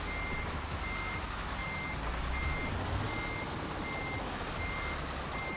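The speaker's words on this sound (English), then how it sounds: "Now I absolutely suck at reversing with trailers" Truck in Euro Truck Simulator backing up with a trailer: a steady reversing beeper pulses at an even rhythm over a constant low diesel engine drone, with no voices.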